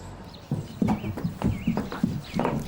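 A donkey arrives at a donkey sanctuary village, its hooves clip-clopping in a steady walking rhythm, close and fairly loud, with no talk over the footsteps.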